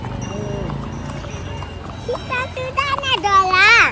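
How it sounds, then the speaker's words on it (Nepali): A child chatters and calls out excitedly over a soft, steady clip-clop of horse hooves during a horse ride in Kanyam, Ilam, in cold weather, with a horse whinnying briefly near the end. "छिट्टो कुद न घोडा यति नै कुद्छ क्या बाबा"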